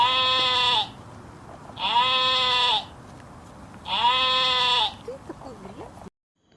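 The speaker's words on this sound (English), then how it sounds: "Sheep." Sheep bleating in three long, wavering calls spaced evenly apart, loud and close, with a brief quieter sound trailing after the last call before silence.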